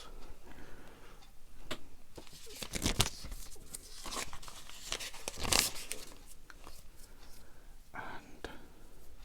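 A small jewellery bag is handled and crinkled in a quiet ASMR setting, with soft, close crackles and a few sharper rustling bursts scattered among faint ticking handling sounds.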